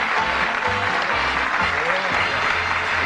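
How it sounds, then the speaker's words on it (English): A TV game show studio audience gives warm applause welcoming a Scottish international darts player onto the set, dense steady clapping filling the room at a constant level, with faint voices underneath. "Nice warm round of applause."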